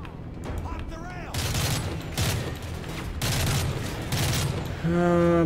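Call of Duty: Modern Warfare 3 combat roars with bursts of gunfire and explosions in several loud waves, over game music and occasional voice lines.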